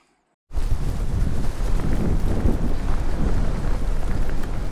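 Strong wind roars across the microphone outdoors, a loud and continuous rushing buffet that starts abruptly after a moment of silence and keeps going without letup.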